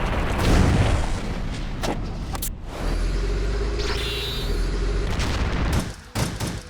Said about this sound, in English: We're gonna just hear all the explosions, just rapid fire.